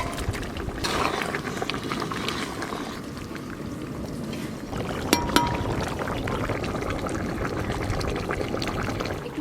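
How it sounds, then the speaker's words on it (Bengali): Fish curry gravy boils in a pot with a steady, dense bubbling and simmering hiss that continues throughout, with a couple of brief clinks midway. "ঝোল তো একদম টকবক হয়ে ফুটা শুরু হয়ে গেছে।"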